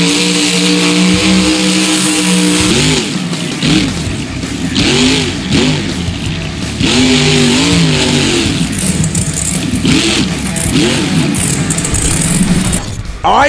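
A monster truck in the video game BeamNG Drive, called Wrecking Crew, its engine revving loudly in repeated surges and dips with rattling mechanical clatter, close and continuous throughout.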